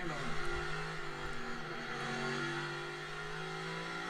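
A NASCAR Cup Series race car engine on the Bristol dirt track, throttle blipping and revving at a distance, fairly faint with a sustained droning tone and fluctuating pitch.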